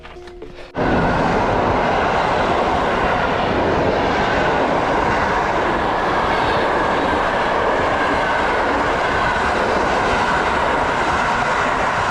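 A train passes close by, loud and continuous, with steady rumbling and clickety-clack from the rail wagons over about twelve seconds after a brief quieter start.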